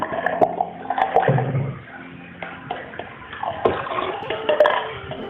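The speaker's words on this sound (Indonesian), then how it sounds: "Saya tambahkan sedikit air lagi ya. Ini air matang." Boiled water poured into a homemade pineapple wine mixture, a steady splashing, gurgling stream up close that runs for several seconds with small bursts of sloshing, and no talking over it.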